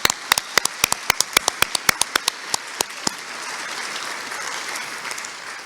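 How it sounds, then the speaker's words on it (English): An audience at the COGS23 conference claps: loud, distinct individual claps at first, then a thinner round of applause that fades into a soft wash of scattered clapping. "So one more round of applause."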